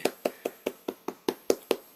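A church congregation claps in welcome at the opening worship service of an evangelism school: about nine crisp, evenly spaced claps in a steady unison rhythm, moderately close, with no talk.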